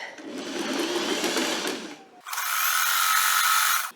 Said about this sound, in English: I'm going to do my little zigzag, and then I'm going to sew to the armhole